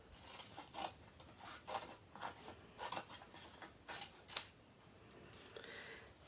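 Scissors cutting through a piece of card for handmade card-making, a series of quiet, crisp snips and rasping strokes at an uneven pace, close and faint with no talking.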